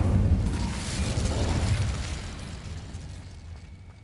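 An Incendio fire spell in a Harry Potter game lets off a rushing burst of flame, loud at first and then a roaring blast that slowly fades over several seconds.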